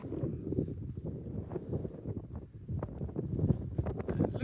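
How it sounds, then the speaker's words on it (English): Wind buffeting the microphone on a hillside in the Scottish Highlands on the Cape Wrath Trail near Inchnadamph, a steady low rumbling gusty roar with no speech. "A little bit of a wind"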